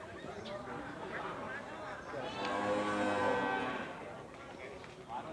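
Cattle at a livestock market low out in one long, swelling moo of moderate loudness that peaks midway, with crowd murmur and scattered market noise around it.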